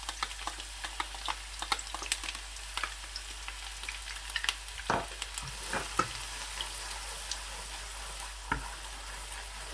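Onions fry gently over a low flame in hot oil while cooking aloo mutter gajar, making a soft, steady sizzle broken by scattered pops and crackles, fairly quiet and close, with no voices.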